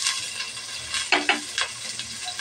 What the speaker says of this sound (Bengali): পেঁয়াজটা আমি ভালোভাবে ভেজে নেব